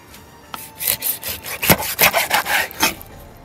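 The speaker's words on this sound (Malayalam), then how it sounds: "നമുക്ക് ആദ്യം ഇതിൻ്റെ തലയങ്ങ് കണ്ടിച്ചു മാറ്റാം." A knife saws through the head of a hake fish in a burst of rough, wet cutting strokes, about a dozen close, loud scrapes packed into a couple of seconds, with no talking.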